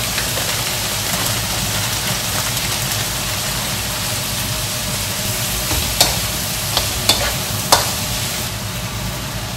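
Minced garlic fries in a pan with a constant loud sizzle, a few sharp clinks of a utensil against the pan near the end.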